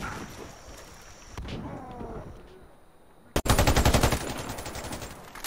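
Warface video game gunshots: quieter in-game sounds, then a sharp crack followed by a loud, close, sustained burst of rapid automatic fire.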